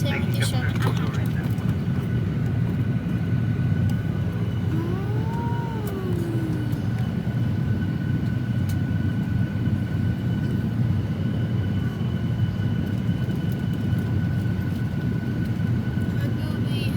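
Steady, loud cabin roar inside a Qantas Boeing 737-800 economy cabin, a constant broadband engine and air rush filling the whole stretch with only faint tonal whines on top.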